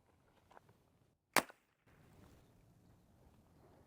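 A suppressed Glock 19 pistol fires a single sharp, short crack that stands out against quiet room sound, followed by a low rustling background.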